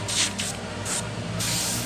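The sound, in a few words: airbrush spray gun spraying paint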